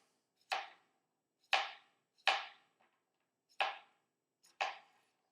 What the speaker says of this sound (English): I'm gonna cut these cucumbers into about a 1/4 inch thick slices